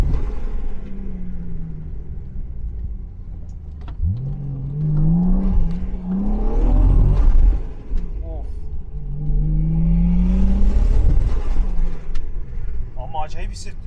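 A turbocharged BMW E36 325 with a silencer-fitted exhaust revs loudly and nearby, its engine climbing and falling through repeated throttle blips over a deep rumble, while people talk around it.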